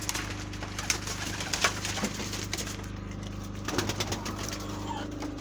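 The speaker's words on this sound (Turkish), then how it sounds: "Diğer güvercinler de burada." Several pigeons cooing close by in a coop, repeated low throaty coos in overlapping phrases with occasional soft rustles and a steady background hum.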